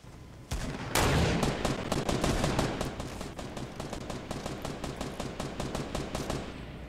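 Rapid sniper and automatic gunfire in the Fortnite video game, a sudden loud burst followed by a steady run of sharp, closely spaced shots that continue through the whole stretch with no talking.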